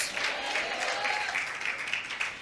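Church congregation applauding, a steady wash of many hands clapping, moderately distant and soft, with no talk over it.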